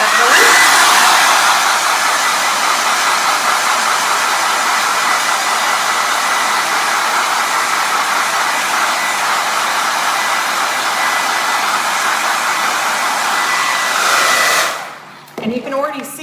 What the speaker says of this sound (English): Once you get your coat on there, we can blow dry it.